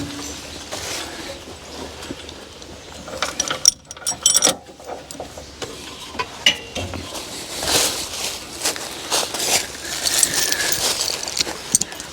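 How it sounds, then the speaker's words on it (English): A metal chain is run under the forks of a skid steer, giving irregular clanking, rattling links and scraping metal knocks close by, some sharp bursts among a steady mechanical background. "I'll run the chain underneath the forks"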